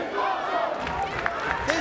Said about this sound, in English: Listen to the crowd at the Impact Zone.